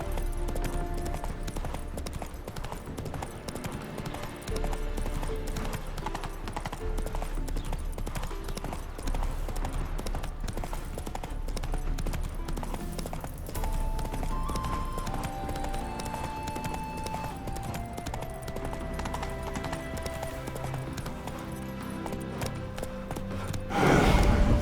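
In The Witcher 3 video game, a horse trots along with steady, rhythmic clip-clop hoofbeats that continue for the whole stretch, set against soft ambient game music, with a brief louder rustle at the very end.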